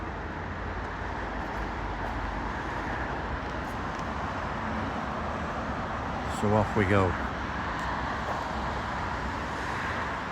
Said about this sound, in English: Be away from the traffic noise soon.